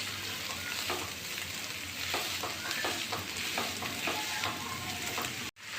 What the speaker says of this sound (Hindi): अब ये हम टमाटर डालकर इनको भूनकर